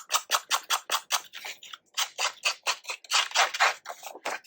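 Scissors snip through paper in a quick, regular series of crisp cuts, close up, with a brief pause midway and no talking.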